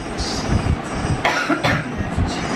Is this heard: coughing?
yes